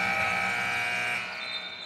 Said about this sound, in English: Buzzer beater.